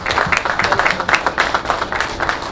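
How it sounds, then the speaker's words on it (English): A small crowd claps at an aquaponics groundbreaking program, with brief uneven bursts of hand claps, fairly loud and near, and faint voices underneath. "Round of applause."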